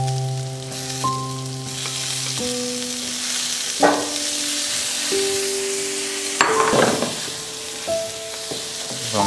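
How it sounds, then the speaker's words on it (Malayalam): Broccoli frying in a pan with already sautéed onion and garlic, a close, steady sizzle broken by several sharp stirring and tossing bursts, with no one talking. "നമ്മുടെ ഓണിയനും ഗാർലിക്കും എല്ലാം നന്നായിട്ട് സോട്ടേ ആയി. നമുക്കിതിലേക്ക് നമ്മുടെ ബ്രോക്കലി ഇട്ട് കൊടുക്കാം."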